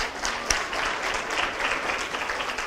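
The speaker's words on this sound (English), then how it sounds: "Let's give them a big round of applause" Audience applause for two volunteers called up at a chemistry explosion show, steady dense clapping throughout the short stretch with no voices.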